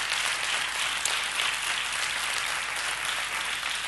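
A studio audience at a Spanish comedy monologue show gives a sustained, fairly even burst of applause, a dense hiss of many hands clapping at moderate loudness with no talk over it.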